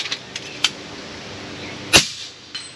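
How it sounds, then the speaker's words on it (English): An FX DRS airgun fires at a target 100 yards away: a single sharp, loud crack near the end, preceded by a few fainter clicks and ticks in an otherwise quiet outdoor setting. "I'll just keep on shooting until I miss it."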